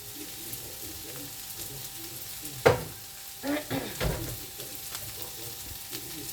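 Bell peppers with spices fry in a pan, a steady soft sizzle throughout with a sharp utensil clack and a few scraping stirs midway, close and moderately quiet.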